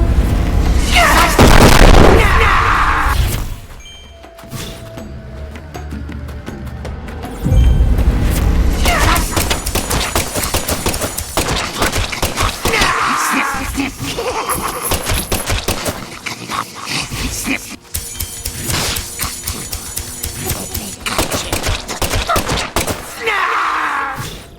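Loud overlapping explosions in the video game Deadly Premonition 2, stacking into heavy booming bursts with rapid crackling, one big blast at the start, then dense rattling detonations that keep surging over about twenty-five seconds.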